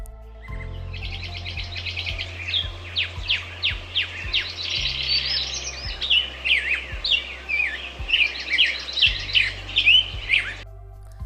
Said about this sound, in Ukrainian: Послухайте спів пташок.